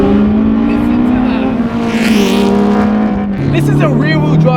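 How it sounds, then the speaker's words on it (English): A 1999 rear-wheel-drive Honda S2000 sports car drives with its windows down, its engine droning steadily and close with pitch shifts as it accelerates. A voice talks over it. "Let me put the windows down for you so you can actually hear how good this car sounds."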